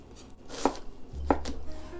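A knife chopping onions on a cutting board for French onion soup: three or four crisp, close thuds spaced unevenly over a couple of seconds, clear and uncovered by any voice.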